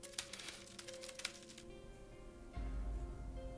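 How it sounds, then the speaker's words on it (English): Rapid clacking of keyboard keys, loud and close, in a dense burst that thins out, then gives way to a steady low hum. "sound of a keyboard."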